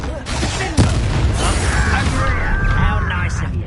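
The Confringo blasting spell in Hogwarts Legacy goes off with a sudden booming impact, followed by rumbling debris and whooshing game effects, loud and close, with a voice shouting as the blast lands.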